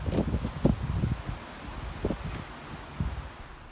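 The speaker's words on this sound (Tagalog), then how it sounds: "Sobrang hangin. Sobrang hangin talaga." Strong wind blowing outdoors, heard as a broadband rushing roar with gusty buffeting against the microphone and some rustling, loud and steady through the whole stretch with no talk.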